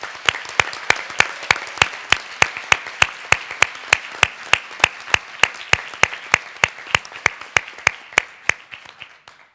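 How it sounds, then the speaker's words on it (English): Steady, evenly spaced hand clapping from a small audience at a general assembly session in Tallinn, sharp regular claps continuing throughout with no talk over them. "give a huge round of applause for all the people who are not here and the people who are here who work for this project"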